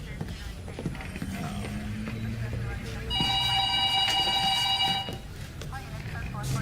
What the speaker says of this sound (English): Hey, Sarge, hit your phone.